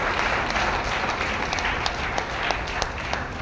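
An audience applauds a product at a Vestige business presentation, with dense, steady clapping throughout and a few sharper individual claps standing out.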